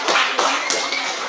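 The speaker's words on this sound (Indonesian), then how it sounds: "Tepuk tangan untuk" Students in a classroom clap their hands for a classmate, a short burst of several close claps with uneven rhythm, slightly scattered rather than a full roar.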